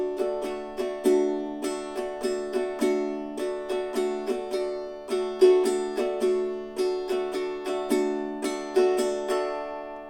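A Loog guitar plays Home On The Range in a steady three-beat waltz strum with down and up strokes, the crisp chords ringing clearly and evenly with no voice over them.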